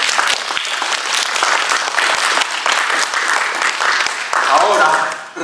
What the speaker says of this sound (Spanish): Un aplauso para el Rey.